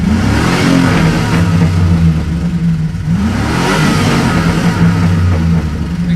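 A Chevy 5.3 V8 with lifter tick, 16k miles on it, revs hard toward 6000 RPM, rising and falling twice in loud, close sweeps with no talking.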